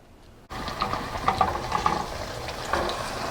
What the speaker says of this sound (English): And next we're gonna deep fry it.